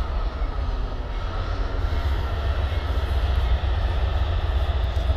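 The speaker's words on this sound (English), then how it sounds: "Oh, here you go, it's the Amtrak." An Amtrak passenger train passes nearby with a loud, steady rumble and roar that holds through the whole stretch, with no voices over it.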